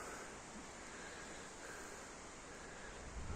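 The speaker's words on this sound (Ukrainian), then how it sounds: "Штормове попередження, такий вітер сильний" Strong storm-warning wind roars steadily with a dense, broadband rush, buffeting loudly throughout without pause.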